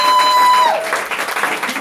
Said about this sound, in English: Big hand clap for the Blackbox on Troost